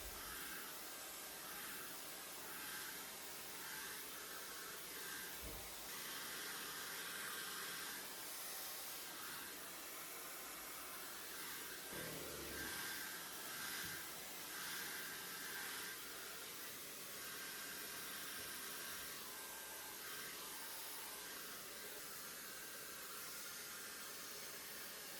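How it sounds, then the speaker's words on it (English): Hair dryer on medium heat drying curly hair, a continuous close, loud blowing hiss that holds steady for the whole stretch with slight shifts as it moves. "I blow my hair dry on medium heat, then I'll switch it to low heat"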